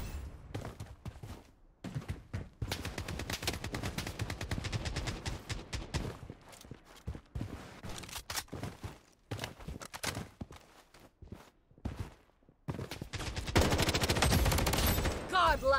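Gunfire rings out in the video game Blood Strike. Bursts of automatic weapon fire come in repeated rapid volleys separated by short gaps, and a heavier sustained barrage builds near the end.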